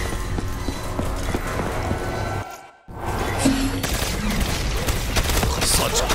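Artillery barrage from a giant robot in Call of Duty: Black Ops III, a dense run of booming impacts and rapid rumbling fire that cuts out briefly mid-way, then resumes loud and continuous with game sounds layered over it.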